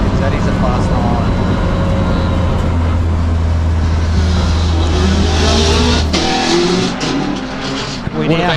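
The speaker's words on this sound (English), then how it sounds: "we've got Douglas Johnson coming up the hill now, the 99 Subaru WRX" A 1999 Subaru WRX race car climbs a lakeside hillclimb course, its loud engine droning steadily close by before easing off and fading, with a commentator talking over it.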